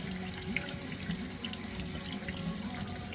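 Tap water runs steadily into a kitchen sink while fresh basil is washed, a constant close splashing hiss with faint clinks, and no voices.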